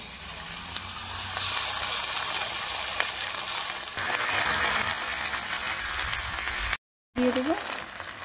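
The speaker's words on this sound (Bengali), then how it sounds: "পেঁয়াজ যে বেটেছিলাম, পেঁয়াজটা ভেজে নেব।" Ground onion paste sizzles in hot oil in a pan during preparation of okra posto, a steady close hiss and crackle that runs throughout and briefly cuts out near the end.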